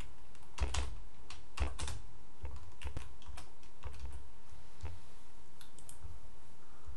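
Keys tapped on a computer keyboard while a sketch name is typed in CAD software, a close run of crisp irregular clicks with short pauses between bursts, no voices.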